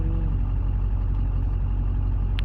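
An LB7 Duramax diesel engine in an Escalade truck rumbles steadily and loudly up close, a dense, even low drone with no pauses and no voices.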